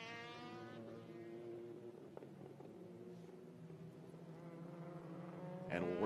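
Pro Mazda race cars roll slowly behind the safety car at Road America, a steady, droning engine hum that stays even and moderately loud throughout, with a brief rise at the very end.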